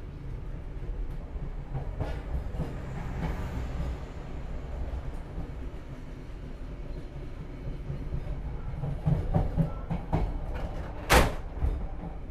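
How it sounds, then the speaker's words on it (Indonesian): A passenger train rumbles steadily past through an Indonesian railway station, with low rolling noise, rattles and clanks of carriages, and a loud metallic bang near the end. "Nah itu tuh kereta Bangunkarta."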